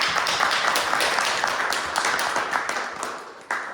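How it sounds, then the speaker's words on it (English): An audience at a Toastmasters public speaking meeting claps to welcome Katarina Barak, a steady round of many hands in a room, loud throughout and easing slightly near the end. "please welcome with a big round of applause, Katarina Barak"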